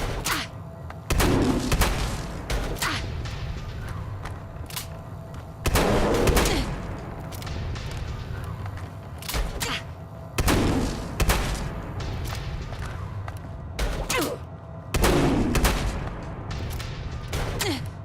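Gunfire in Fallout 4 comes as loud, close bursts of gunshots roughly every few seconds, each a sharp blast with a booming tail, set over a rumbling game background.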